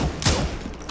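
Gunfire from an enemy player in a shooting video game cracks out as one sharp, loud burst near the start, followed by quieter rattling shots in the background.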